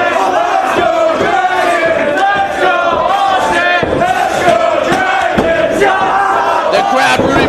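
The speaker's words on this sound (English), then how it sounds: "The crowd rooting both men on" Loud crowd at a 2004 Ring of Honor pro wrestling match, Bryan Danielson vs. Austin Aries, cheering and chanting continuously with rising shouts throughout, filling the arena close and dense.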